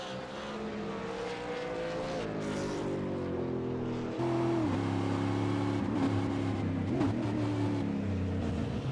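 A V8 Supercar in an online racing sim brakes into the Phillip Island hairpin, its engine note dropping through the gears and then climbing again in rough, surging revs as it accelerates out.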